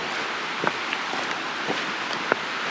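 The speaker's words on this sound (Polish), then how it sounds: "To szum potoku." Steady broadband rushing of a flowing mountain stream, the Szklarka near Szklarska Poręba, continuous and fairly close, with a few faint clicks and splashes over the top.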